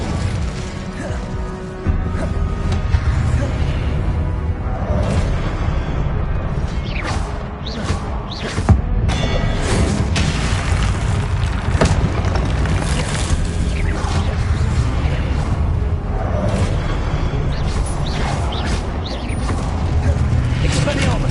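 Repeated Confringo and Incendio spell blasts from Hogwarts Legacy crack, whoosh and burst in quick succession, mixed with clashing combat effects under a near, continuous player voice calling out spells.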